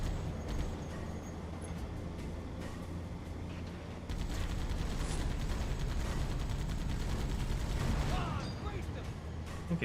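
Enemy gunfire rattles through a firefight in the video game Halo 2, with dense bursts of rapid shots under a person talking. The shooting grows louder partway through.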